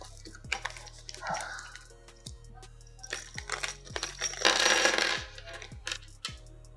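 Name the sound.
handling M4x20 screws for a 3D printer base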